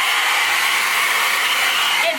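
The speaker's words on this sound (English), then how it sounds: "You get a little hair dryer." A tiny purple hair dryer with low and medium settings running close by, giving a steady, even whirring hiss from start to finish that shifts slightly just before it ends.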